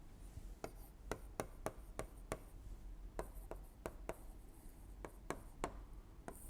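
A pen drawing a pressure-enthalpy diagram for a refrigeration lesson, giving a series of short, distinct scratching strokes in an irregular rhythm, close and fairly quiet, with no speech.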